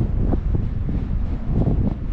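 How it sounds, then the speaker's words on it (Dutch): Strong wind roars and buffets the microphone at the top of a 344-meter radio tower, a steady, loud, broadband rush with gusty pulses throughout. "Hear the wind, man."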